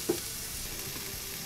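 Chopped small onion sizzling in a hot pan as it is stirred, a steady soft frying hiss with a brief utensil knock near the start, heard alone without talk.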